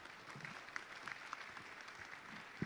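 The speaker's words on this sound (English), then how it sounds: "A big round of applause for our panelists." Faint, distant applause from a conference audience for a panel of speakers, an even spread of clapping heard at low level throughout.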